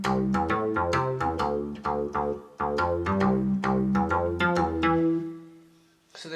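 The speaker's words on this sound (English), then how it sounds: "The instrument I'm using for this bass solo is Synth Bass 1." Keyboard bass solo played on the Synth Bass 1 preset, a steady run of plucky synth bass notes in quick rhythm with a held note that fades near the end, clear and alone.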